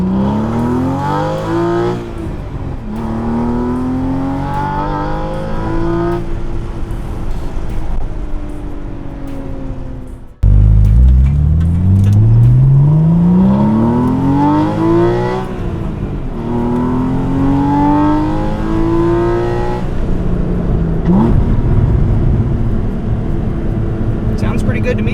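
A 2014 Porsche Cayman S with K&N air filters accelerates hard several times, its engine note climbing in rising harmonic sweeps with a loud, high-pitched induction whine, dropping between runs and surging again after a sharp restart.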